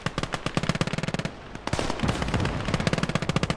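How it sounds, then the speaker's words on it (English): Rapid machine gun bursts in the war game Last Grenadier 1946, loud close rattling strings of shots with a short pause before the firing resumes at the same fast rhythm. "just hear the rattle of MG fire everywhere"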